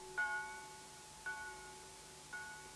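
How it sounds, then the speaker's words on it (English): Three evenly spaced strikes of a church bell, rung as a wartime invasion warning in Britain, each a clear tolling tone with a long ringing decay, heard faint and alone. "Church bells rang their warning."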